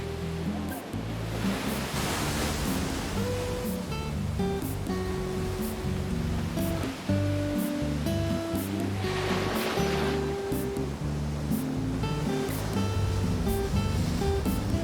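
Ocean surf at Rainbow Beach on the Sunshine Coast, a continuous roar of breaking waves with repeated surges, loud and close, under background music.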